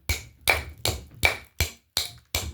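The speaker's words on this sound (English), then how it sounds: "If I want to get them in, I have to hammer." Seven sharp hammer blows on nails, struck at a steady, even pace, each a crisp close metallic knock with a short ringing decay.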